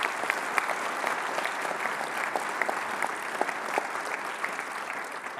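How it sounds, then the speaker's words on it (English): An audience at a software conference's opening keynote applauds, a dense, even wash of many hands clapping, sustained throughout at moderate level with no voices. "So everybody give them a round of applause"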